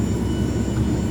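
Cirrus SF-50 Vision Jet engine running in the X-Plane flight simulator, a steady loud jet whine and hum with a constant high tone, no talk.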